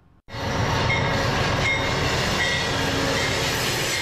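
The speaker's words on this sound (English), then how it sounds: "Amtrak's Empire Builder rolls into downtown Vancouver" Amtrak's Empire Builder passenger train rolls loudly and steadily into downtown Vancouver beside the waterfront, with continuous wheel rumble, clatter and a brief high squeal, starting abruptly after a short quiet moment.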